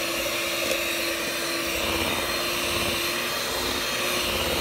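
An electric mixer whirs steadily and continuously, beating sour cream and eggs into a peach cobbler cheesecake batter, the motor drone constant and fairly close throughout.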